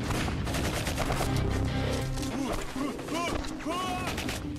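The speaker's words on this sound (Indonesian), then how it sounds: "Benar saja mereka diserbu dengan pistol ketika akan kabur" Pistol gunfire in a dense film action scene, with rapid cracks and booms mixed into loud music and effects, while voices shout and talk over the shooting.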